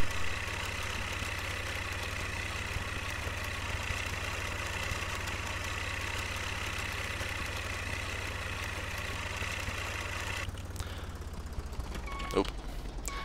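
Tractor engine in the Professional Farmer 2014 farming game, running at a steady idle with a constant low drone and a mid-range hum under the mix, cutting out near the end before a few faint clicks.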